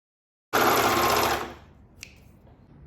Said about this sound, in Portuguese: Então agora eu vou testar o ponto e vou começar a costurar.